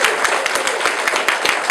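Forum audience clapping, a brief, thin round of applause with distinct claps at a moderate distance.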